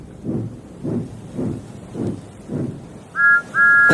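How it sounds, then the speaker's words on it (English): Two shrill, steady train whistle blasts sound near the end, following a slow, rhythmic chugging of a heavy steam engine; loud and clear, with no talking. "Then he heard a whistle."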